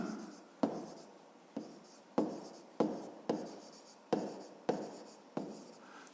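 Chalk taps and scrapes on a classroom board during a fifth-grade maths exercise, a steady series of about nine sharp strokes, each starting with a crisp attack and trailing off, close and fairly quiet with no talking.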